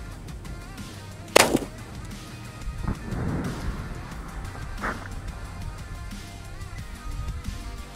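A single loud, sharp shotgun blast fired through a ported choke at an outdoor target, followed by a second softer crack and several seconds of low ambient noise.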